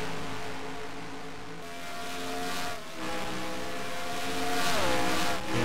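NS Racing 99 race car in a racing video game qualifying session, a continuous engine drone with rising and falling pitch as the car runs the track, steady and alone.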